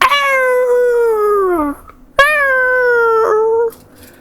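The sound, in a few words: dogs barking and howling near a lake in Greece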